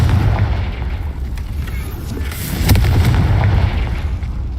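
A Confringo blasting spell detonates in a Harry Potter video game, heavy booming explosions with sharp cracks, loud and close, layered over continuous rumbling game sound.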